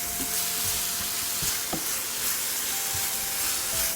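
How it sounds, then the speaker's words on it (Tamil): Grated carrot, sugar and coconut are stirred together in a hot pan, a steady sizzling hiss broken by repeated soft scraping strokes of the spoon, close up and with no talking. "நான் 1 கப்பு தேங்காய் சர்க்கரை எல்லாத்தையும் நான் ஒன்றா போட்டு இப்படி கிண்டுவேன்."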